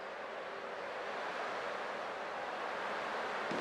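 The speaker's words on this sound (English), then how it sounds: "I can still clearly hear the sound of the waves." Steady ocean waves wash in a continuous, broad rushing surge from the Honkai: Star Rail game world, even and unbroken with a slight swell toward the end, no voices over it.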